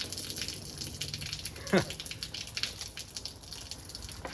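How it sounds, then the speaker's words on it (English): Trapped water gushes out of the spare tire area of a C4 Corvette in a short, splashing pour against a background of low handling noise and rustle. "Ton of water."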